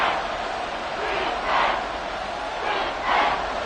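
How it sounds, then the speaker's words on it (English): A big stadium crowd at a Saints vs Panthers NFL football game gives a sustained, roaring cheer that swells louder twice, distant and dense throughout. "the crowd getting into it as we come up on a big 3rd down"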